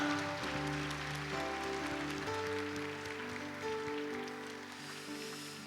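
A church congregation gives a hearty round of applause to welcome first-time visitors during a Sunday worship service, the steady clapping blending with sustained instrumental music throughout.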